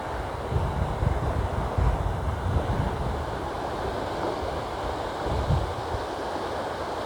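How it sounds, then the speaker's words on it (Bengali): Steady roar of Bay of Bengal waves washing onto the shore of a newly formed island, with wind buffeting the microphone and a few louder surges, no voices. "এভাবে ঢেউগুলো আসতে পড়ে শিবচরের পাড়ে।"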